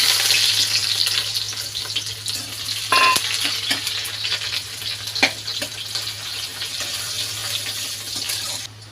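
Onions frying in hot oil with a five-spice tempering, a steady close sizzle with occasional stirring scrapes and clinks.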